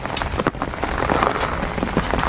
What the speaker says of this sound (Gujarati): આજ સવારનો વરસાદ પડે છે.